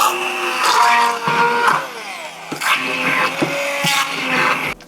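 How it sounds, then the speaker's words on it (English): A stick blender whirs loudly and continuously up close, its motor pitch shifting and surging as it churns through thick tofu. "Go in with the stick blender, get it as smooth as I can be bothered going."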